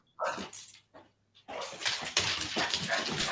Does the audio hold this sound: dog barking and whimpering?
yes